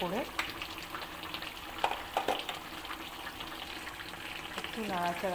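Boiling mutton in a pot being stirred during an oil-free dum mutton recipe, a steady bubbling, hissing simmer with a few spoon scrapes and knocks, close and moderate, with faint voice-like tones near the start and end.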